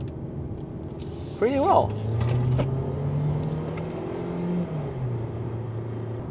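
A 2025 Hyundai Elantra Hybrid shifts into second and pulls away, its engine note rising steadily from inside the cabin while someone talks over it.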